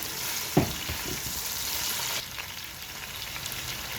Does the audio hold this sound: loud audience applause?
no